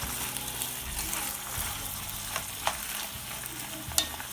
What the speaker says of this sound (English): So let this saute for about 2 to 3 minutes.